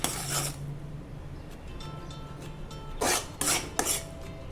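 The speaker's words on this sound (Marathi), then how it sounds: "म्हणून कंटिन्यू याला ढवळत राहायचं" Jaggery syrup being stirred in a pan for a chikki of amaranth, sesame and peanuts: quiet scraping at first, then three louder close scrapes of a spoon against metal near the end, with no voices.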